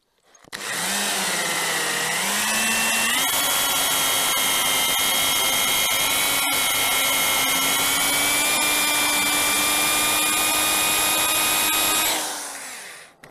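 Ordinary electric drill fitted with a rubber decal-removal wheel spins the raised front wheel of an Infiniti FX35, producing a loud steady whine with a low hum from the worn front wheel bearing, running continuously after a brief spin-up.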